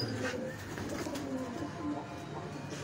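Pigeons coo on a rooftop in soft, repeated low throaty calls set against a steady outdoor background rumble, fairly faint and continuous.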